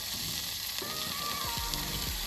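Chicken frying and sizzling in a pan for a chicken curry, a steady close hiss with a few soft clatters of the pieces shifting, and no talking.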